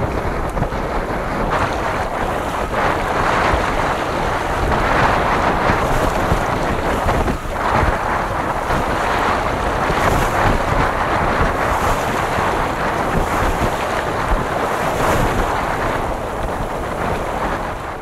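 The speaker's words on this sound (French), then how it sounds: "le vent est tombé un peu, là on est à 10-11 nœuds de vent" Steady wind of about 10-11 knots roars across open water on a sailboat, buffeting the microphone continuously, with waves washing beneath it and no voices.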